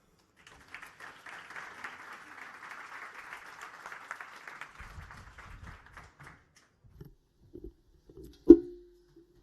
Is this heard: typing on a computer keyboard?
no